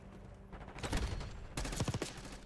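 Rapid bursts of XM4 rifle fire in the shooter game Call of Duty Black Ops 6, two loud clusters of quick shots separated by a brief pause, close and punchy with no talking.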